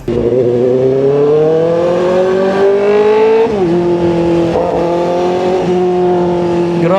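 A Kove 450RR inline-four sportbike engine revs loud and high-pitched, holding a sustained scream, pitch climbing then dropping and settling as it shifts, close by with no talk.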